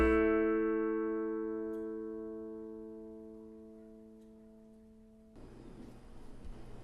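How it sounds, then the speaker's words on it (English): A sustained piano note, or interval, rings out and decays slowly with rich harmonics, faint beating between coincident harmonics in the ringing tone, before cutting off into low room noise. "See if you can hear that in the piano notes."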